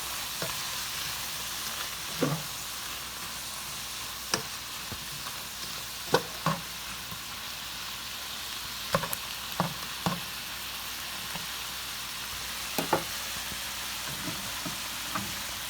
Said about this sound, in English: we're going to go ahead and just stir these mushrooms in. See if we can caramelize them a little bit with the wine and soy